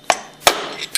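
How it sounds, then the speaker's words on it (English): Three sharp metallic hammer taps knock the steel-cased seal out of a Hypro roller pump housing, close and loud, spaced unevenly with brief ringing after each strike. "tap it out with a hammer."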